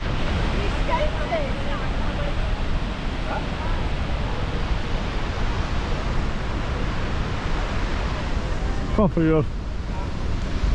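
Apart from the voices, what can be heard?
waterfall in Iceland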